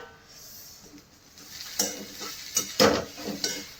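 Tarota, a monsoon wild leafy vegetable, cooks in a pan with little spice. Soft scraping stirs and light sizzling rise over a quiet background, with a few louder stirring strokes near the end.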